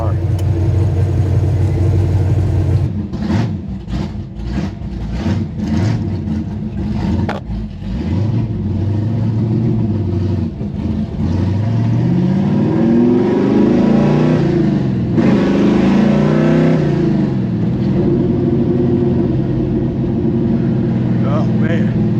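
A 1969 Plymouth Road Runner with a 660 HP Mopar engine and radial tires drives close and loud. Its engine drones and revs, with pitch sweeping up and down through gear changes. People talk over it at times.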